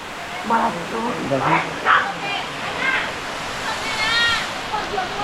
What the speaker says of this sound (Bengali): এই যে এটা হলো উদয়তয় ঝর্ণা